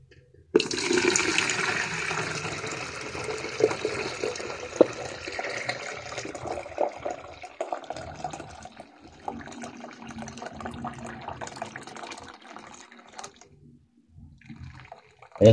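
Grape juice poured into a container for homemade red wine, a sustained splashing liquid gush that starts abruptly and tapers into lighter trickling, close by with no talking.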